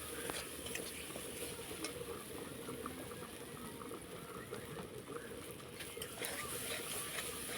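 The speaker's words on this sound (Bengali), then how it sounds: "তো মশলাটা আমার ভাজা হয়ে গেছে।" Spiced masala for a Bengali oily fish curry sputters and bubbles in a pan, a steady dense crackle and simmer with scattered sharper pops running throughout, close and moderately loud, no talk.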